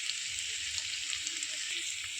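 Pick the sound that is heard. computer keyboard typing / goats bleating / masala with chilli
masala with chilli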